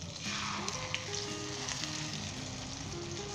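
A Cholistani egg omelette sizzles and fries steadily in a hot pan just after being flipped, a continuous close, crackling hiss with faint tonal hum beneath and no talk.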